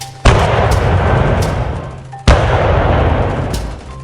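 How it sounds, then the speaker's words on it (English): Two heavy booms from British 7-pounder field guns and rockets, each a sharp near blast followed by a long rumbling decay, with no talk. "the British fired some shells from 7-pounders and rockets in the direction the city was supposed to be"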